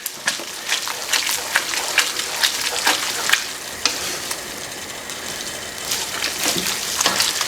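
Spaghetti with tuna and sambal matah is stirred vigorously in a pan as the last of the water cooks off, giving steady sizzling and frying with scraping, clattering stirring strokes throughout.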